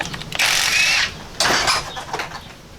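An impact wrench with an extension spins bolts loose during front-end work on a Jeep XJ. Two short, loud bursts of whirring, rattling power-tool noise are split by a brief pause, with no voices.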